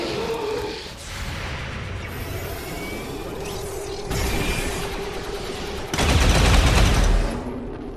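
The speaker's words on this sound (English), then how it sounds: "How good do those coil guns sound and look?" Coil guns firing in the video game XCOM 2, heard as several loud, dense bursts of shots separated by short gaps, with a humming mechanical tone running underneath and the heaviest burst near the end.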